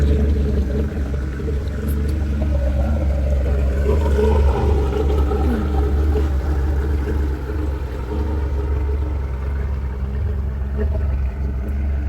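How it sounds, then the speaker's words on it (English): A low engine rumble drones steadily throughout as a motorboat passes a float home on the water, with a continuous churning wash. "We have a boat coming by."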